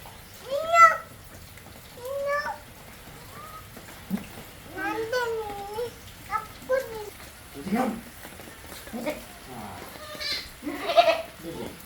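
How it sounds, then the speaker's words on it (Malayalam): Goat bleating, several short nasal calls repeated through the passage at close range, interleaved with people talking nearby. "പശു അല്ല, ആട്."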